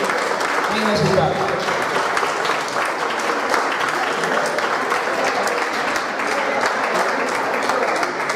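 Steady applause from an audience for a prize winner at a village festival prize-giving, dense continuous clapping filling the whole stretch at close range, with a voice briefly heard at the start.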